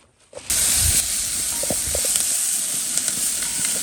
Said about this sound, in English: We'll just get the onions nice and brown.